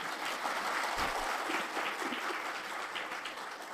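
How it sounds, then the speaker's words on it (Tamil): An audience claps at a Tamil debate event, a steady, faint wash of applause heard from some distance, with no voices over it. "இவ்வளவுதான் நீங்க கைதட்டுவீங்களா?"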